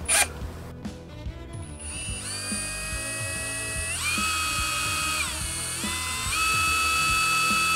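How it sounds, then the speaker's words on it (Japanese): Electric drill whining at high speed as it bores a pilot hole for a stainless steel screw while making a bonsai, the motor pitch rising and shifting in steady near bursts over a low mechanical rattle, with no talk. "ネジの内径ぐらいのもののドリルを一回開けた方がいいんじゃないかなということで、はい、でこれがドリルなんですね"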